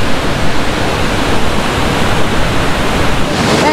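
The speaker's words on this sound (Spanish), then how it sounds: "ya llegamos aquí a la cascada" Waterfall at Cascada Duende in Huila, Colombia, with rain falling: a loud, steady, dense roar of rushing water, close and unbroken, with no talking.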